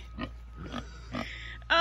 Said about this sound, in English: It looks like the pigs are getting hungry, if you can hear them.